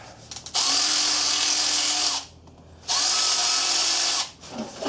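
A power tool undoes a bolt on the alternator of a Honda Civic EF with a B18 engine, two loud whirring bursts of about two seconds each, separated by a short pause, heard up close.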